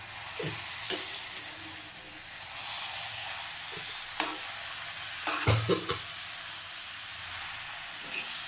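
A pan of tapioca and beef curry being stirred, with scraping and clacking strokes of a spoon over a continuous close sizzle and hiss, a few louder knocks standing out among them.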